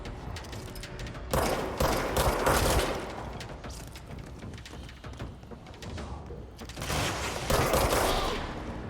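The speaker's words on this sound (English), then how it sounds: "That was a headshot." Bursts of gunfire from the video game Control, a heavy volley for about two seconds, a quieter stretch of steady rattling, then another loud burst near the end, close and dense with no talk.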